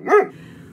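A single dog bark, loud and close, a short sharp bow-wow followed by a faint low tail of room sound.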